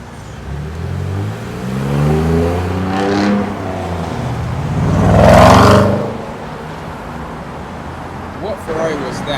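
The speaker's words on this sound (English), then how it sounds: "What Ferrari was that?" A Ferrari supercar on a London street accelerates past with a rising, sweeping engine roar that swells to a loud peak mid-clip and then fades away, with a person's voice nearby.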